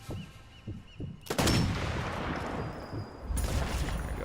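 A sniper rifle shot rings out in the video game Sniper Elite 4, a sudden loud crack followed by a sustained rumbling tail, with a second heavy burst near the end.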